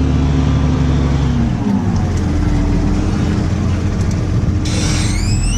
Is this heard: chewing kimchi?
no